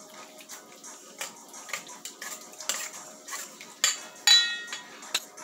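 Tuna sandwich filling is stirred in a bowl with a utensil, giving light scraping and irregular clinks. Some are soft and some are sharper, and they come at an uneven, busy rhythm.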